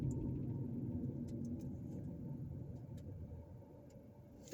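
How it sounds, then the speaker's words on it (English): A car drives along a residential street in Gary, its steady low engine rumble and road noise continuing throughout, fairly close and without talk. "we're going to drive down that street and go by that house"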